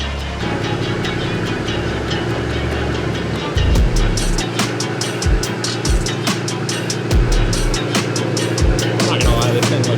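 An Audi RS3 8Y with a Stage 1+ E85 tune runs loud on a dyno. The engine roar climbs, shifts abruptly, then breaks into a string of sharp pops and cracks, with voices talking alongside.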